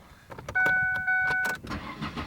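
A car engine starting with a quick cranking rattle, then a loud catch and rev that settles toward a steady run, heard up close with faint tonal chimes over the start.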